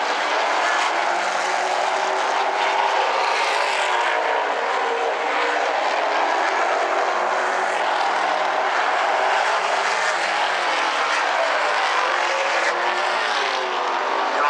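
Super late model race cars roar around South Sound Speedway in a 100-lap A-main, a dense, loud, continuous pack of engines sweeping past with no break.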